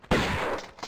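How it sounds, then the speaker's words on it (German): A shotgun blast in Tomb Raider 1 Remastered, a single sharp, loud shot close by that decays over most of a second, followed by a faint second hit at the end. "Probier's mal mit der Shotgun."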